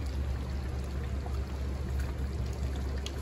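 Sweet crab gravy simmering in a pan, a steady bubbling burble that stays close and even throughout.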